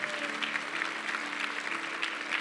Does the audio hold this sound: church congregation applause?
yes